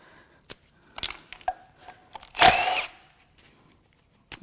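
An impact wrench zips briefly at plastic access plugs on a Cadillac Northstar L37 4.6L V8 engine, one loud burst amid scattered clicks and handling knocks nearby.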